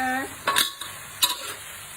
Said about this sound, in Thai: ผัดหมูให้สุกก่อน